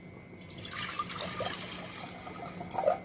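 Water pours into a pressure cooker in a home kitchen while an Odia vegetarian thali is cooked, a steady close splashing and trickling with a brief brighter gurgle near the end.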